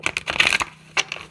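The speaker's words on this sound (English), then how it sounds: "I like the way this deck shuffles. It's really smooth." Quick crisp riffles and snaps close by, a short burst of a smooth tarot deck being shuffled, then a pause and a couple more flicks.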